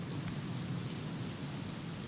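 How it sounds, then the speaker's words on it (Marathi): Heavy monsoon rain pours steadily in Pune during a morning walk, a dense, continuous hiss that stays loud and even throughout with no voices. "पाऊस सुरू आहे"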